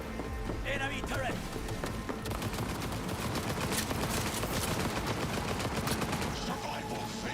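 Enemy turret fire in Cyberpunk 2077 rattles in dense, rapid bursts, loud and continuous over a busy combat background while a voice talks over it.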